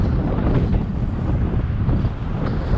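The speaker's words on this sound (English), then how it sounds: "Oh, it's a little windy." Wind buffets a microphone during a city bike ride in a park in New York, a loud, steady low roar with gusty fluctuations throughout and no speech.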